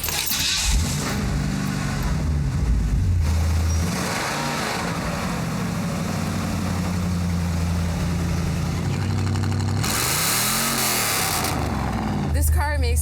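Modified V8 engine in an American car with a modified exhaust, revving up and down with deep rumbling swells and rising pitch sweeps, loud and close, interleaved with stretches of steady idle.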